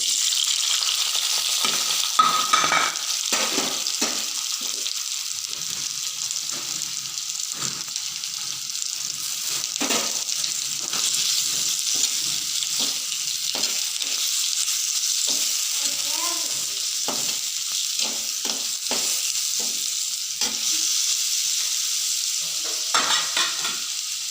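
Chopped onions fry in coconut oil in a small clay pot for fish curry, a constant close hiss and sizzle with the occasional scrape and knock of stirring throughout.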